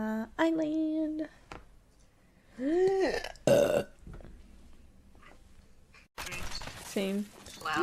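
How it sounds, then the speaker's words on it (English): Several loud, croaking burps from a woman, close and drawn out, broken by short bursts of chatter and laughter from people in the room. "burp"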